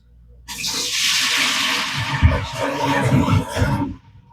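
Running water splashes steadily for several seconds as a strainer of potatoes for pressure canning is rinsed under the tap, then the flow stops abruptly.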